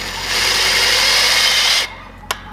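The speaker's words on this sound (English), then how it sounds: "I'm gonna drill right above it." A power drill bores into a thick metal tube gate latch with a loud, close, steady grinding whine that runs for under two seconds and then stops abruptly, followed by a brief click.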